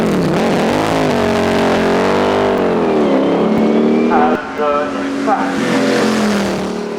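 A Brabham Buick race car climbs the hill at Shelsley Walsh during a 2007 British hill climb championship event. The close, loud engine note rises and falls through the revs, with a sharp gear change partway through.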